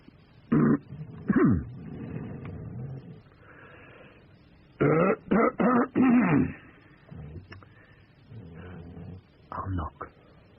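Several throaty coughs and throat-clearing bursts come in short clusters, separated by quiet pauses.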